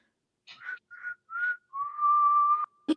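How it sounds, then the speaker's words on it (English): A person whistles the tune from The Breakfast Club, several short clear notes followed by one long held tone, close and alone, ending with a brief breathy burst. "I wish I was gonna be able to whistle"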